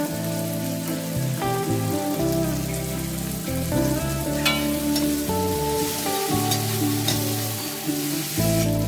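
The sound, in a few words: frying cabbage with chopped chillies in a pan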